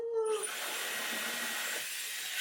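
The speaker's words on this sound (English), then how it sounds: "We'll start our blow dryer." A blow dryer starts up with a brief rising whine, then settles into a steady, close airy roar that continues throughout.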